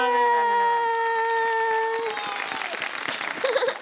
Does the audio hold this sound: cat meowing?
no